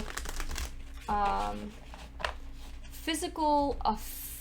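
Tarot cards being shuffled during a card reading, two short bursts of riffling and rustling close by, the first around a second in and a longer one later, with a voice speaking softly in between.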